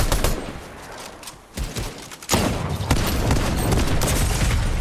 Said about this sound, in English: Whoa, nice pump shot